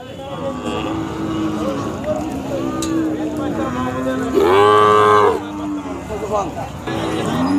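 Khillar bulls and young bullocks at a busy cattle market in Sangola, with a loud close moo rising midway over constant crowd chatter, engine noise and other livestock calls in the background.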